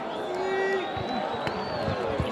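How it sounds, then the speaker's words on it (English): A crowd at a school rugby match between Graeme College and St Andrew's College roars and cheers in cold, rainy weather, a dense wash of voices with whistles and scattered shouts. "you'll hear the crowd going mad"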